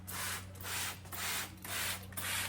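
A basement wall stained by mice is scrubbed in five steady, close strokes, each a broad abrasive rasp followed by a short gap, over a low background hum.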